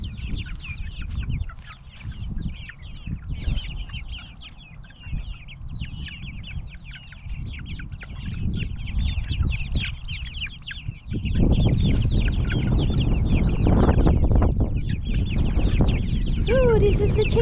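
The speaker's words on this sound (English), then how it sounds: "loads of chickens." A large flock of backyard chickens at a Texas home cluck and squawk continuously at close range, growing louder and more agitated near the coop while a person talks.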